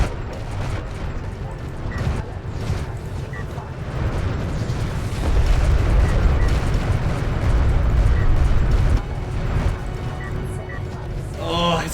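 Massed turret fire and explosions pound a carrier in Homeworld: Deserts of Kharak, a dense, continuous rumble of booms and mechanical clatter swelling in the middle, under a talking voice.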